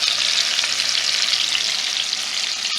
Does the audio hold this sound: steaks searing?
yes